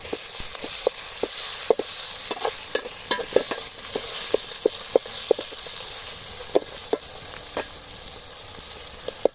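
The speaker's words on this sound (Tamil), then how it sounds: "தக்காளி போட்டு நல்லா மசிச்சு விட்டுக்கலாம் நல்லா கிண்டிக்கலாம்" Tomatoes fry in a pan with a steady bright sizzle, while a spoon stirs them in irregular sharp scrapes and taps every half second or so, close and clear with no voices.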